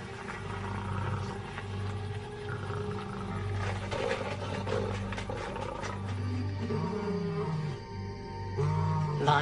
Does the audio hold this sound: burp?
no